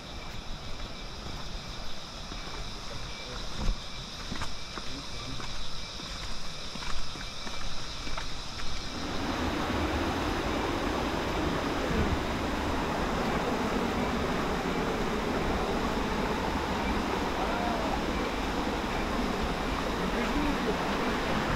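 A hot river rushes steadily nearby, a dense broadband wash of flowing water that swells partway through and then holds loud and constant, with faint talking early on.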